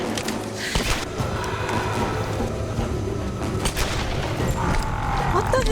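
Tomb Raider 2013 combat with gunfire aimed at Matthias: a continuous loud battle din of shots and booms throughout, with sharp cracks rising out of a rumbling, stormy background.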